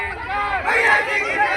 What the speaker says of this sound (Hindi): देखो कितनी भीड़ है